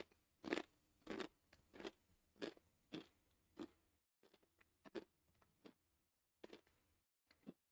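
Potato chips crunch between the teeth in a series of loud, close bites, then settle into softer, irregular chewing with brief quiet gaps. No one speaks.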